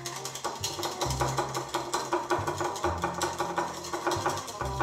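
A whisk beats hard and fast in a bowl, making a loud, continuous rhythmic clatter of rapid repeated strokes close by, with no speech.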